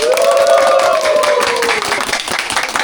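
A group of people claps together before a meal, a brisk, loud burst of applause close by, with a voice calling out over it near the start.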